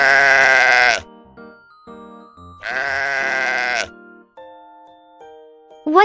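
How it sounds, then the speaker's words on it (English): A sheep bleats twice, each a loud, wavering call about a second long, with a quiet pause between and faint chiming tones afterward. "It's a sheep."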